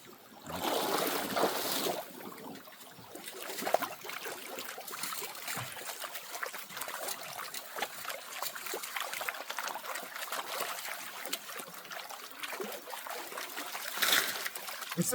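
Water trickling and sloshing in a gold pan during hand prospecting, with a steady wash of swirling water and a few small splashes, fairly close and continuous throughout.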